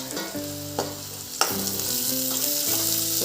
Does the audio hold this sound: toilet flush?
no